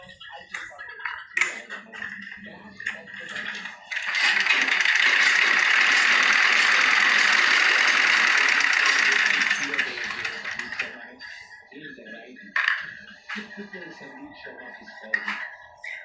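Sewing machine running a basting stitch along the folded hem of a kurta sleeve, one steady whirring run of about six seconds, close and loud, with someone talking before and after it.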